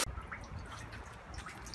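Trickling, gurgling water runs steadily into a root-blocked drain, filling it, with small drips and splashes over a continuous liquid wash, fairly close and quiet.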